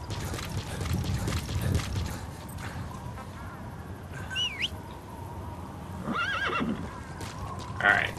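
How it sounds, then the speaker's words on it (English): A horse in the video game Metal Gear Solid V whinnies while being ridden, with a few high, wavering neighs over hoofbeats and game background sound, and chirping birds heard in between. "We ride the horse."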